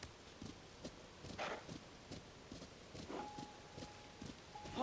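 Horse hooves clip-clop at a steady walking pace in Zelda: Tears of the Kingdom, a rhythmic series of soft thuds with a brief tonal game chime near the end.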